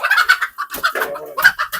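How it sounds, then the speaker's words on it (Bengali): A white hen sitting on eggs clucks several times close by, short throaty calls in quick bursts with brief gaps between them. "এই সাদা মুরগিটা বসে মানে ডিমে"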